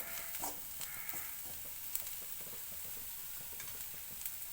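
Guar bean pods tipped into hot oil in a pan and stirred, a soft continuous sizzle with light scraping and occasional clicks of the spoon against the pan, fairly quiet with no talking.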